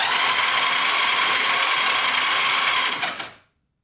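Kawasaki Mule utility vehicle, rusted and once seized, starter cranking with a harsh, whirring buzz while two solenoid wires are shorted together, loud and continuous, then cutting off abruptly near the end.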